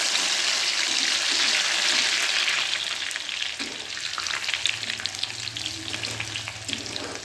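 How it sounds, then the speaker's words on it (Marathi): Soaked raisins drop into a hot pan for sheer khurma, setting off a loud, steady sizzle of frying that continues throughout with faint stirring scrapes and no speech. "यामध्ये आपण भिजलेली मनुका टाकूया"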